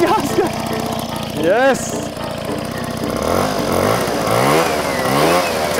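A Piaggio Ciao moped engine idles steadily off the throttle, a close, buzzing two-stroke putter with slight wavering in pitch, while people talk and call out over it.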